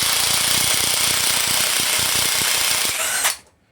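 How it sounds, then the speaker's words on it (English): A Bauer cordless impact gun hammers continuously, loud and close, while loosening bolts on a 5.3 LS engine during disassembly, then cuts off abruptly near the end. "This Bauer gun's usually got some pretty good torque."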